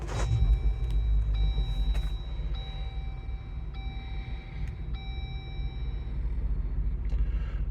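A 2022 Jeep Wrangler Unlimited Sahara engine starts with a push button, giving a low rumbling turnover and then a steady idle beneath repeated high electronic dashboard chimes.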